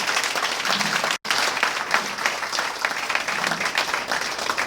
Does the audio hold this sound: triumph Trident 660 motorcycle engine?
no